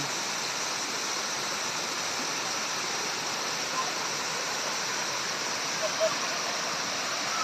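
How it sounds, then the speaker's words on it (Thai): Mountain stream at a Surat Thani waterfall, water cascading down over several rock tiers, makes a steady, close, unbroken rush of water that holds an even level throughout. "ที่มี สายน้ำเป็นลำธาร ไหลลงมา จากภูเขา"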